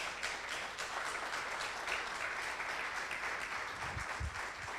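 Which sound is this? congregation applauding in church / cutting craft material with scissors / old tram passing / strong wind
congregation applauding in church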